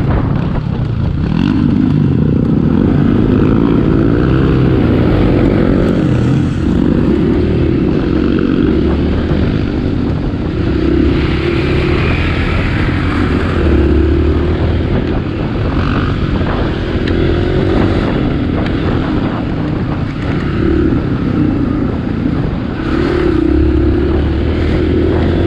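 Dirt bike ridden hard along a muddy trail through water, engine roaring steadily and loud at close range for the whole stretch with continuous churning noise.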